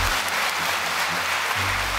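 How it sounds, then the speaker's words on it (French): Audience applause at the TPJ 2025 event in La Grande Motte, a steady wash of clapping filling the short moment at moderate level with no talk over it. "On peut les applaudir très très fort."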